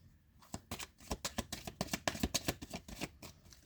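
Tarot cards shuffled and flipped in a quick, irregular run of crisp papery slaps and riffles, close and fairly quiet, with no talking.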